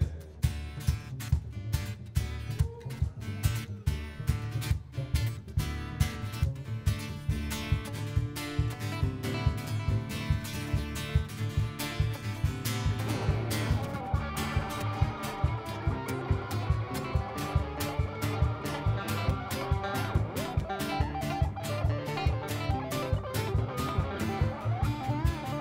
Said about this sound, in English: he pulled the bow across the strings